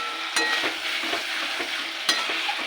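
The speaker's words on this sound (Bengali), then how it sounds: "আবার ভালো করে কষিয়ে নেব।" Chicken kosha with fried potatoes being stir-fried in a pan, close scraping stirs and a steady sizzle, with two sharp spatula knocks against the pan and no talking.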